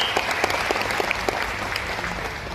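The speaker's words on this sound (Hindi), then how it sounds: "एक बार जोरदार तालियां हो जाए वेस्टीज के लिए।" Short burst of audience applause at an award function on a stage in Pune, many hands clapping together in a dense, even patter for a couple of seconds.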